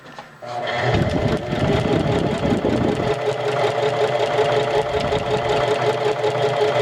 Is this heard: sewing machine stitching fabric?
yes